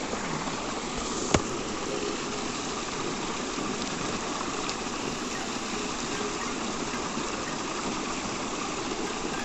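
Mountain spring water in Uttarakhand runs in a steady broadband rush, constant and close, with one brief sharp click partway through and no talk.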